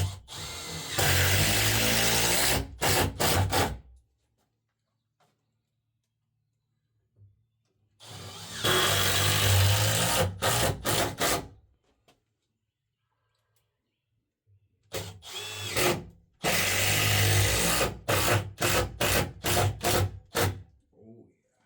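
Power drill driving screws into boards over a grease and inspection pit, three long whirring bursts each ending in quick pulsing stops, separated by quiet gaps, close and loud.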